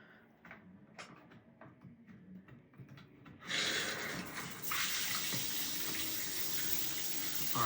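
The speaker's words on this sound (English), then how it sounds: "We're gonna turn on the valve and watch water come out" A shower head gushing water once its valve is opened during a leaky shower head replacement, starting abruptly after a few quiet knocks and then pouring steadily and loudly to the end.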